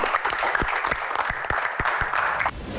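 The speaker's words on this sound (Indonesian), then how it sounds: "Baik, tepuk tangan untuk Pak Bolot." Audience applause at a live comedy Q&A show: dense, steady clapping from a crowd fills nearly three seconds and fades off abruptly at the end, with no talk over it.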